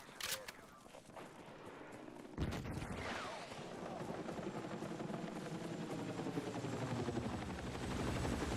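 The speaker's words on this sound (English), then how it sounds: "Contact! Enemy helo!" An enemy helicopter in the Battlefield 6 video game, its rotor thumping in a fast, steady rhythm that grows louder and closer after a burst of gunfire, with voices heard over it.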